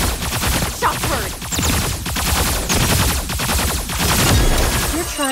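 Rapid gunfire from the mecha video game Hotsteel, dense overlapping bursts and clattering shots in a loud, continuous barrage.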